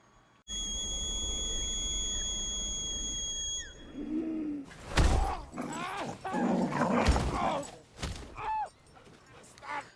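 Krypto the dog from Superman (2025) barks and yelps excitedly in quick, loud bursts after a steady whistling tone, with voices mixed into the commotion.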